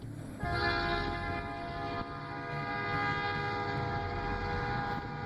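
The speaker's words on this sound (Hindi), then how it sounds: "दूसरी ट्रेन की आवाज आई" A train passes, its horn sounding steadily and loud over a continuous rumble of rolling wagons, close by and without any talk.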